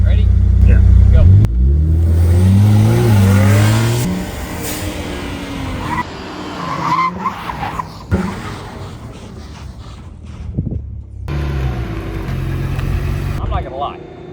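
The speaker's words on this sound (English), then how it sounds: "We're gonna match these cars up to 60 miles an hour side by side" Two sports cars, one a Mercedes, rev and climb in pitch together as they accelerate hard side by side to 60 mph, with voices talking over the engine noise.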